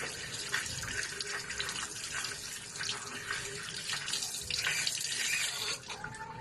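Cold water runs steadily from a tap into a sink to rinse dirt from a skin wound, a continuous close splashing stream with no one speaking.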